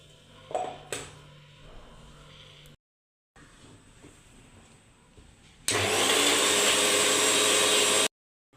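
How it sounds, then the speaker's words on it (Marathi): A mixer grinder whirs loudly and steadily for a couple of seconds, grinding roasted masala, after quieter kitchen clatter and handling noises. "त्यानंतर मिक्सरमध्ये बारीक करून घ्यायचं आहे"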